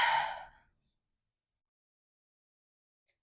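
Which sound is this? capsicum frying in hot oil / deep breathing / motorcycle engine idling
deep breathing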